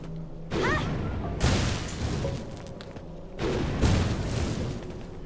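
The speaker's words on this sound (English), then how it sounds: "this will ignite and essentially cause an explosion" A thrown fire pot in Wuchang: Fallen Feathers bursts twice, each time as a loud whooshing blast of flame that roars for about a second and then fades into crackling combat noise.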